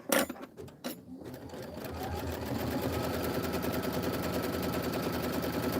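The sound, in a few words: sewing machine stitching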